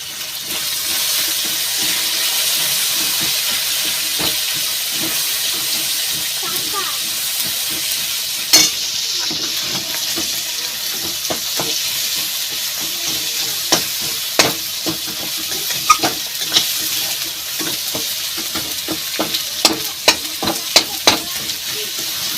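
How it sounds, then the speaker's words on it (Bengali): Chopped tomatoes with a little salt cook in a pan for home-style mung dal, giving a steady close sizzle broken by frequent stirring clicks and scrapes that grow busier toward the end. "কেটে রাখা টমেটো, অল্প করে লবণ দিয়ে দেবো যাতে টমেটোটা ভালোভাবে গলে যায়।"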